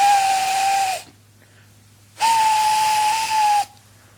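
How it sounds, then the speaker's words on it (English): Steam engine whistle, two long steady shrill blasts, the second louder and slightly wavering, separated by a short quiet gap with faint hiss. "far away, but getting louder and louder, was the sound of an engine's whistle"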